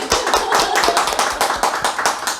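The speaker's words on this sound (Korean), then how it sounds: "박수 한번 칠까요?" A short burst of dense applause from a small group, many hands clapping quickly and unevenly, close and loud.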